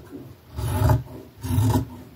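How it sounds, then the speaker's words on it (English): Scissors cut through a garment's fabric for an upcycled clothing piece, making two separate rasping snips, each about half a second long, heard close up with no talking. "If I can find my scissors, I will cut the angle out."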